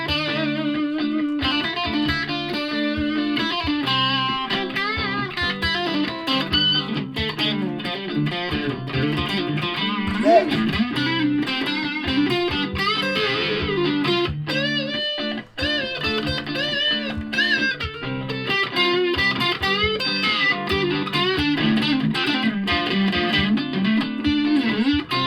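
An electric guitar plays through an MXR distortion pedal using the humbucker bridge pickup, sustained, heavily saturated chords and riffs ringing continuously and loudly with no talking.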